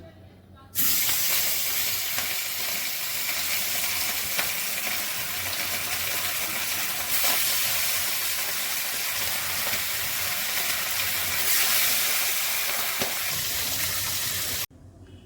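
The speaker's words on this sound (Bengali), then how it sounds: "মাছগুলো ভেজে নিচ্ছি।" Pieces of rohu fish, rubbed with salt and turmeric, frying in hot oil in a kitchen: a loud, continuous hissing sizzle that starts abruptly, holds steady for about fourteen seconds, then cuts off sharply.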